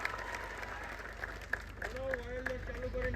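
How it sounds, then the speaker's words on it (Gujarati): Crowd applause at an Aam Aadmi Party rally in Rajpipla greeting a newly chosen district panchayat president, steady clapping with a loud voice and shouts running over it. "એમને તાળીઓના ગડગડાટથી વધાવો"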